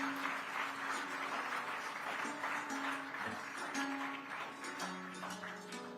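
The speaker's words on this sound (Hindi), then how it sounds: "आप सभी से अनुरोध, तालियों के साथ इस प्रेरणादायी क्षण का स्वागत करें।" Faint, steady applause fills a hall at a poster release during an environment conclave in Rajasthan, with soft background tones running beneath the clapping.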